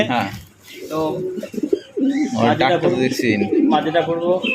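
Satinette pigeons coo in low, throaty murmurs throughout, mixed with a person talking over them nearby.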